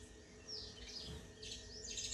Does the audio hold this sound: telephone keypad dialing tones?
no